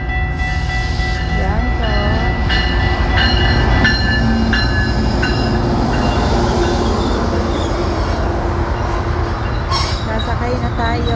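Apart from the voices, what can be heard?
passenger train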